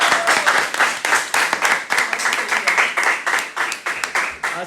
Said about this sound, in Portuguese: Por favor, batam palmas, por favor.